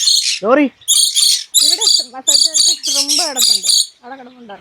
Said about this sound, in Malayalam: ഇഷ്ടം പോലെ കിളിക്കുഞ്ഞുങ്ങളുണ്ട്